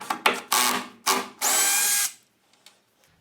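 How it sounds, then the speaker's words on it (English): Power drill backing screws out of a wooden joint on a coach seat frame: short trigger bursts followed by one longer whir, then quiet with a few faint knocks. "I'm going to pull the screws out of my bottom joint"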